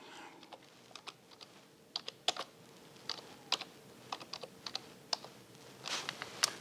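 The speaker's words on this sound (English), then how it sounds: "I go into the search bar and I type in what I want to do" Keys tapped on a computer keyboard while a search is typed, quiet irregular clicks in short bursts with brief pauses, close and clear with no talking.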